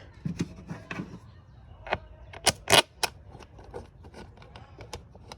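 Intake bolts being started by hand on an Acura RSX: sparse metallic clicks, taps and small clanks of hardware and parts, close and uneven in rhythm, with no voices.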